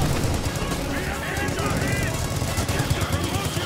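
Sustained machine gun fire in a World War II strategy video game, a steady dense rattle that holds at constant loudness for the whole span, with a voice faintly present underneath.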